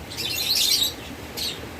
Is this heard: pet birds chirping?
yes